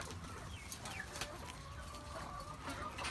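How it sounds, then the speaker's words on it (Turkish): Chickens cluck softly in a quiet outdoor setting, with scattered short calls over faint background noise. "Yanında zaten öbür Tavuklarımız var."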